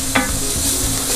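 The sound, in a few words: onions cooking down in a pot for pork ragout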